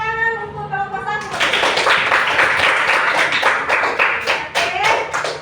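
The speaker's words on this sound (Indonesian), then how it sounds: "Tepuk tangan untuk kelompok 1." After a brief voiced tone, a classroom audience breaks into brisk clapping following a group presentation, close and fairly loud, with irregular sharp hand claps continuing to the end.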